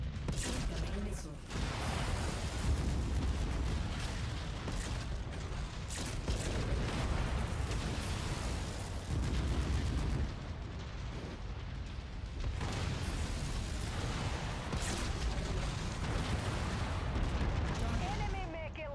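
Incoming missiles slam into mechs in a MechWarrior battle, a dense barrage of explosive bursts and crackling impacts pounding steadily, loud and close, with brief lulls between volleys.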